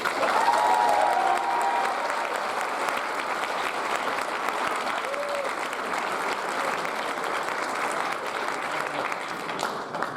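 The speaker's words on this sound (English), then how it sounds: "Round of applause, please" An audience applauds at a 2022 high school awards ceremony, sustained even clapping from a large crowd, slightly distant and continuous for ten seconds.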